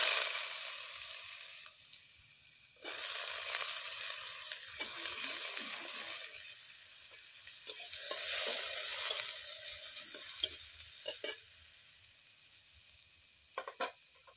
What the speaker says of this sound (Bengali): এবারে ভেজে নেব গাজর।